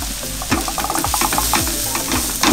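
Chilies are stir-fried with beef in a hot pan for spicy sambal matah beef, with busy clattering scrapes and stirring strokes over a continuous loud sizzle, close and without talk.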